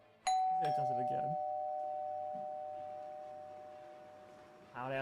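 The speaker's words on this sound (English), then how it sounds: "Loud-ass doorbell." A loud electronic doorbell from a TV show sounds a sharp chime that rings on as a long, slowly fading sustained tone, while voices talk over it briefly at the start and again at the end.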